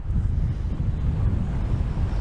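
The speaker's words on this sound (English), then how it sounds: "it is very windy today" Steady, loud wind buffeting a microphone at a reservoir, a continuous low rumble with gusty swells and no other sounds.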